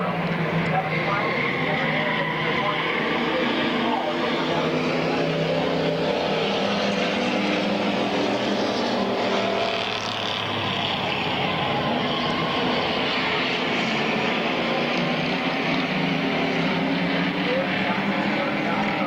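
Career stock cars roaring around Midvale Speedway in a heat race, a continuous loud engine drone that swells and dips as the pack passes, with an announcer talking over it.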